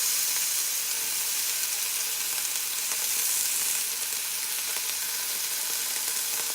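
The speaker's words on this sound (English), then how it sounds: "But that sear that you hear, that's what you want." Nopales sear in a hot cast iron pan, weighted down by a press, giving a steady, dense sizzle and hiss at moderate level with faint crackles, continuous throughout and with no voices.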